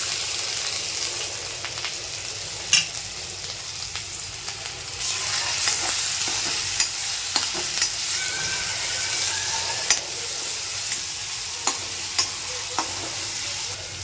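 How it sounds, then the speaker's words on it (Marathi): Ground garlic, ginger and green chili sizzle steadily in hot ghee, a close, continuous frying hiss broken by scattered sharp crackles and pops and occasional scraping of a stirring spoon. "या तुपात आपण घालणार आहोत जे मगाशी वाटून घेतलेलं आहे लसूण आलं आणि मिरची"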